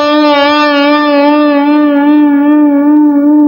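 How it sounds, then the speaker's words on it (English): An electric guitar sustains a single bright, harmonically rich note while the tremolo bar bends its pitch gently above and below in a slow, steady vibrato, loud and alone. "So when I vib it, I'm actually kind of pitching it above and below."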